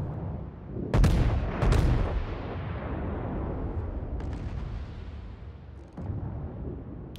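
Heavy naval guns from the battleship Tirpitz fire in World of Warships: two loud, booming salvos in quick succession, then a long rumbling tail with a few fainter distant shots.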